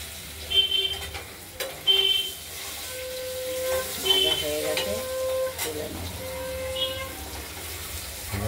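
Soft sizzling of potatoes frying in a pan runs throughout, with a few clinks of a utensil and faint background voices.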